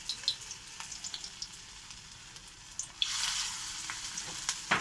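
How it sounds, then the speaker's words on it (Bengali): Fritters (bora) being dropped into hot oil, a soft steady frying hiss that swells abruptly into a louder, fuller sizzle partway through, with a few light clicks and taps. "এবার আমার তেল গরম হয়ে গেছে। দেখতে পাচ্ছ? তেলে আমি বড়াগুলো ছাড়বো।"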